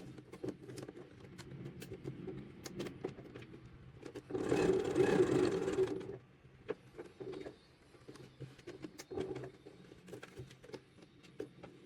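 A sewing machine stitches a seam on tailored trousers in one steady whirring run of about a second and a half, close by, framed by quieter handling taps and light clatter before and after.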